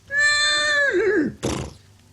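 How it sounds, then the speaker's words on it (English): A horse whinnies loudly and close in a long, wavering neigh that falls away, followed by a short burst of snorting or scuffling as it bolts, spooked during a Halloween ghost tale. "As you hear the horses that you guys came in trot off, Something has spooked the horse."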